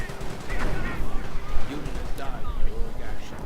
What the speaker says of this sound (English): Mortar round doing a bit to the Americans